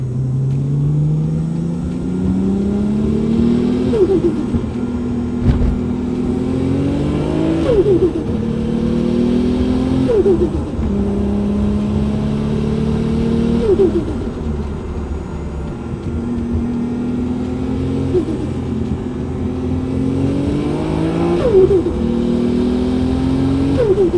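A 700 whp Nissan R32 GTR, an all-wheel-drive shop build, revving repeatedly with rising engine pitch and a deep rumble, loud and close, in regular cycles for over twenty seconds with no talk.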